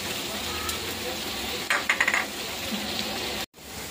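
A masala paste of cumin, ginger and green chilli with peanuts, turmeric and salt fries in oil in a pan. It makes a steady sizzle, with a brief cluster of spoon scrapes and clinks partway through.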